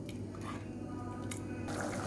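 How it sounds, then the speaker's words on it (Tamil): A tomato and brinjal side dish simmering in a pot, a soft continuous bubbling and gentle squishy popping, close and low in level. "இது வந்து கொஞ்சம் நல்லா கொதிக்கட்டும்"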